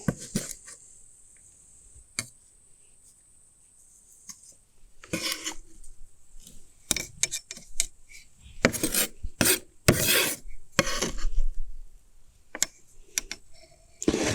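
Grinding and rubbing chopped cilantro and garlic in a mortar, scraping strokes that start sparse and grow steadier and louder, with occasional knocks, close by.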